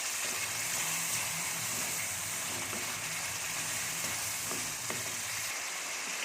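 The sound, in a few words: peas being mixed and fried in a pan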